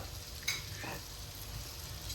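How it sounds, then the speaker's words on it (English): Butter hits a hot pan outdoors beside a whole grilled salmon, giving a soft, steady sizzle with a brief brighter crackle as it goes in, faint and close, with no voices. "Now we add a bit of butter"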